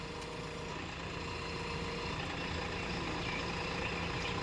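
A 575 Power Plus tractor engine runs at a steady idle, a loud, continuous rumbling drone that stays even throughout with no voices.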